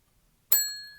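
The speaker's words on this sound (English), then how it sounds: "Ring the bell." A single bell is struck once and gives a bright ding whose clear tone rings on and slowly fades. Silence comes before it, and no one speaks.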